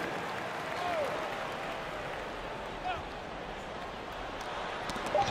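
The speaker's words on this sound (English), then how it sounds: "Give a big round of applause for" Arena crowd applause in NBA 2K23 during a Lakers vs. Celtics game, a steady wash of clapping and cheering from a large crowd throughout, with faint whistles and no distinct voices.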